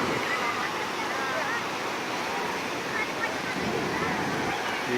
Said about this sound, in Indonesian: Kondisi dan situasi pantai